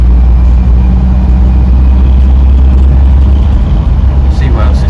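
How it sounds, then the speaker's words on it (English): A Mark 1 Mazda MX-5 turns in at a classic car show, a loud, close engine rumble and road noise that stay steady throughout, with wind buffeting. "That's a Mark 1 Mazda MX-5 by the looks of it"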